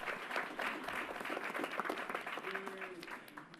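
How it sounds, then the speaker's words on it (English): A crowd at Yankee Stadium gives a round of applause during a public announcement, moderately loud clapping with some cheering that holds steady and eases slightly near the end. "Let's give them a round of applause."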